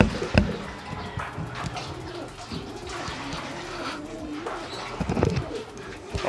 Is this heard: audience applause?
no